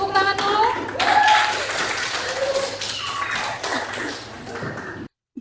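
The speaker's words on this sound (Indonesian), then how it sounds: "Ya, tepuk tangan dulu." Classroom clapping, with a group of students tapping and clapping hands in a quick uneven patter under chatter and voices, ending in an abrupt cut.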